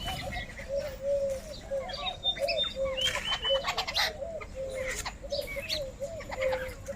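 Birds, likely pigeons or doves, coo steadily while other birds chirp and tweet as they are fed grain at a home, a busy layered chorus of close calls with bursts of chirping.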